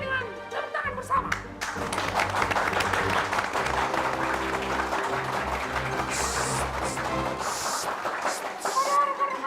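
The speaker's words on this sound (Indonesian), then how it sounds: "kita gembira akan perjanjian ini dengan tepuk tangan bersama" An audience claps together at a ceremony marking an agreement, a dense, steady burst of applause with music playing underneath throughout.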